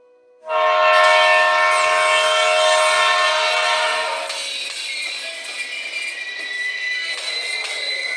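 A train pulls into a railway station, opening with a loud sustained horn blast that fades after a few seconds into a steady rumbling roll of wheels and carriages, with no voices.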